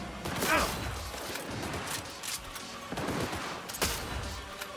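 Gunshots in the video game Cyberpunk 2077 ring out as a few scattered sharp cracks, fairly faint and spread across the moment. Some speech is mixed in.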